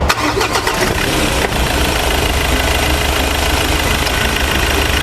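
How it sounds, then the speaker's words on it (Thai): A 2019 Ford Ranger 2.2 XLT Cab diesel cranks and fires up loudly at close range, then settles into a steady, even idle for several seconds, with no talk over it. "เดี๋ยวเราไปฟังเสียงเครื่องยนต์กัน"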